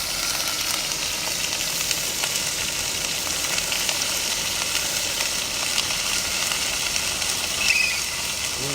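Baby tomatoes and tomato paste fry in a backpacking pan with a steady, loud sizzle and hiss, small pops of bursting skins scattered through, no voices.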